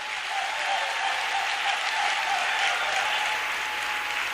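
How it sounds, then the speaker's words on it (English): An audience applauds steadily in a large hall, a dense, even wash of clapping that holds at the same level throughout without pause. "One more time, let's put our hands together for them."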